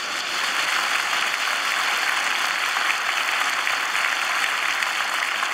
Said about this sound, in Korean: 큰 박수 한번 하세요.